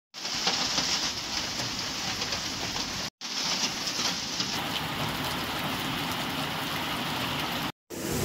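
Steady rain in Sikkim pattering on surfaces, a continuous hiss with brief cut-outs, no voices.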